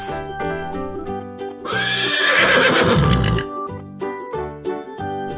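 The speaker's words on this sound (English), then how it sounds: "This is horse." A horse neighs loudly in a long, drawn-out whinny that rises and fades over a few seconds, set among shorter tonal calls, with faint hoof clip-clops in the background.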